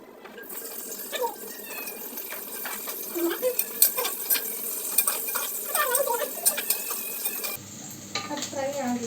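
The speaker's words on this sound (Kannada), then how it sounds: "ಇವಾಗ ಮೆಣಸಿನ್ಕಾಯಿ ಹಾಕಿ ಆಮೇಲೆ ಈರುಳ್ಳಿ ಹಾಕ್ರಿ. ಸಿಡಿಯುತ್ತೆ." Chillies and onions hit hot oil in a home kitchen pan while chicken fries, giving a crackling, spluttering sizzle with scattered sharp pops and utensil clinks, continuous and fairly close, ending in a brief change of background.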